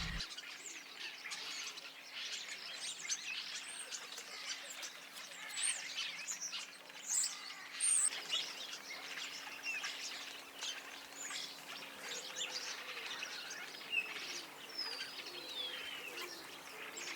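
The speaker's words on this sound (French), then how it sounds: "C'est des oiseaux qui sont très proches de l'homme, on les voit très souvent" A flock of wild birds in snowy countryside fields keeps up a busy, fairly faint chatter of overlapping squawks and chirps, heard from a little distance without any voices.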